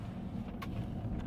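A BMW Mini engine idles just after an oil and filter service, a steady low rumble close to the microphone with one faint light tick partway through and no voices.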